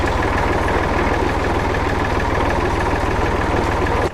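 A tractor engine idles loudly and steadily with a deep, even mechanical throb, close up and alone, before it drops off slightly at the very end.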